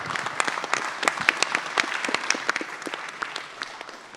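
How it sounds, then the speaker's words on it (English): An audience at a Halliburton Labs finalists pitch day claps steadily for a speaker, a dense, fairly close patter of many hands with sharper individual claps standing out, sustained for several seconds without talk. "Let's give him a round of applause."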